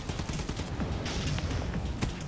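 Dense, rapid gunfire from an online PS4 shooter, Hardware Rivals, crackling in steady bursts throughout with overlapping shots and no pauses.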